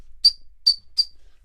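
A beatboxer's mouth imitates a referee's whistle with three short, sharp, high-pitched blasts, close and clear, separated by brief silences.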